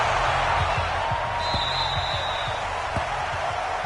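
Crowd noise in a PS4 NFL video game, Jets against Raiders, forms a steady loud roar of cheering and applause, with faint low thumps pulsing beneath it.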